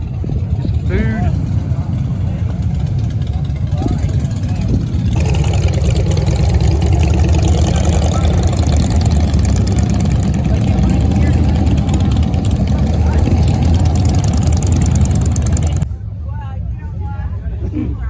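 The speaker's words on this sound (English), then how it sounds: "Still bikes coming in." Motorcycle engines rumble and idle continuously at a Blessing of the Bikes gathering at Bald Knob Cross in Alto Pass, loud and close, with a voice speaking over them before the engine noise drops off near the end.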